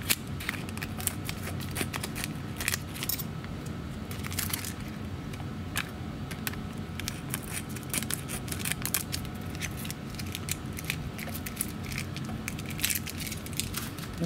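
Scissors cutting tape off a rolling mill plate during etched plate making, a steady stream of close snipping and crinkling with scattered sharp clicks, no speech over it.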